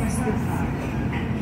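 SunRail commuter train coming to a stop, a steady low rumble and rolling rail noise filling the cabin with muffled voices faintly underneath.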